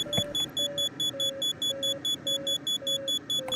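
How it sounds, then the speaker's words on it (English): Warning beeps in the Condor3 gliding simulator video game repeat in a quick, regular series of short tonal pips about twice a second over a faint steady background tone, with no talk. "I'm getting so many nuisance beeps"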